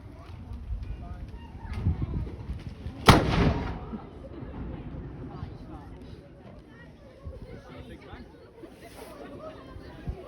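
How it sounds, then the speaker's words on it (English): A single loud cannon boom, the daily one o'clock gun at Edinburgh Castle, rings out, echoing briefly amid a murmuring crowd and background chatter. "We also heard the cannon being fired."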